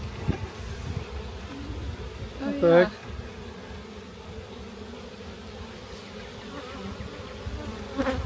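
Agitated honeybees buzz steadily at close range during a hive inspection in an apiary, with a brief louder burst near the middle and short exclamations from a person partway through.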